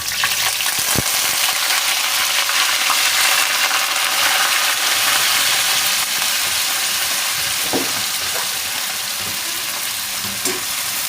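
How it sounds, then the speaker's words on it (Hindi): Onions frying in hot oil for an okra fry give a loud, continuous sizzle close up, with a few faint clinks of a utensil against the pan. "अब इसी ऑयल में हम प्याज को डालेंगे।"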